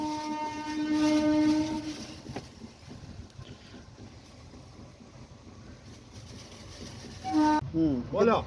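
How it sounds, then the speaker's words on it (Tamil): Two trains meet and pass each other on the line, a sustained horn tone at first giving way to a rolling rumble, with a brief tonal blare near the end. "2 ட்ரெயின் மீட் பண்ணிட்டு போகிறாருங்க."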